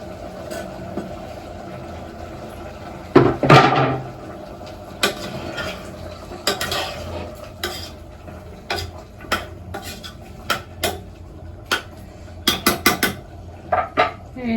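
Metal spoon stirring tomatoes into chicken curry in a pot, with repeated clanks and scrapes against the pot, some in quick bursts, over a faint background hum and a brief sizzle.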